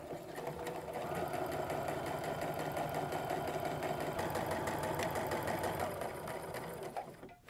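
A sewing machine runs a short straight seam across apron pieces, its soft, even motor hum and rapid needle patter continuing steadily for about seven seconds before slowing to a stop.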